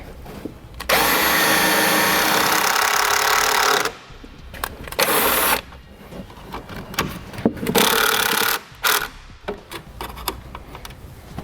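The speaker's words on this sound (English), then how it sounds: "Then I'll drill it out and then add my wire back to it." A power drill whirs in several bursts while drilling out a hole during tail light wiring work on a towed vehicle, a long steady run followed by shorter on-off pulses, close and loud with no talking.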